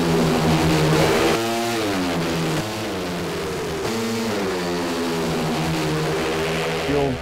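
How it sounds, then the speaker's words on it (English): Speedway motorcycle engine at Poole revving hard and continuously, its pitch rising and falling as the bike accelerates and backs off, loud and close with no talk over it. "You've got the revs up as you get into the corner"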